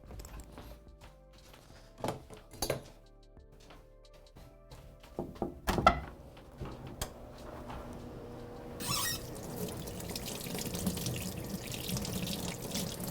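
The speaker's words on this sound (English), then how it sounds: "So now I'm gonna go wash my hands." A kitchen tap runs at the sink for washing greasy, cheese-covered hands while making Georgian cheese bread, after a few faint clinks and knocks. The water gushes steadily and fairly close through the final few seconds, with no talking.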